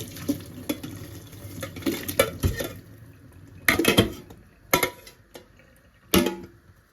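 Boiled sweet potato is drained, with loud clattering knocks of a pot and utensils over a faint wash of water, in scattered bursts close by.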